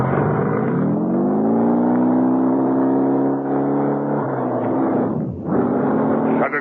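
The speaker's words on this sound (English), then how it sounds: "I grabbed the messenger's bike and raced towards headquarters." A messenger's motorbike races along in a radio-drama scene, its engine droning loud and close with a rising then steady pitch, briefly dipping before revving back up.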